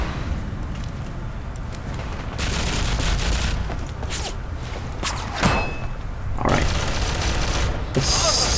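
Gunfire in the Ghost Recon video game: repeated bursts of shots and a sharp, clanging report or two at varying distances, steady and fairly loud throughout, with no speech.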